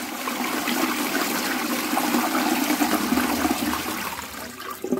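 A toilet flushing in a bathroom, the bowl being checked after the user had been coughing up blood; a steady loud rush of water runs for about five seconds, easing slightly near the end, with no talk.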